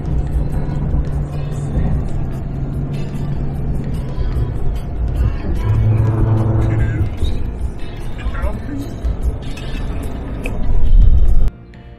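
Toyota Tundra pickup truck cruising through desert, a steady low road rumble and engine drone filling the cabin, with a brief louder surge near the end and voices talking over it.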